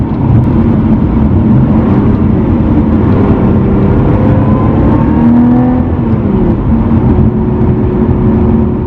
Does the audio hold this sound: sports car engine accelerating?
yes